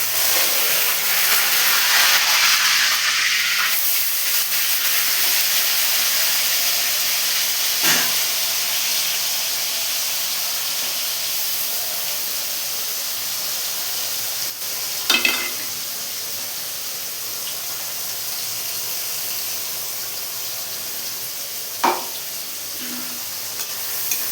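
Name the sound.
onion paste, green chilli and tomato paste sizzling in hot oil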